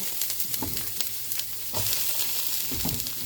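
Onions, ginger and garlic frying in a hot pan give a steady, crackling sizzle with occasional scraping stirs, close and even throughout.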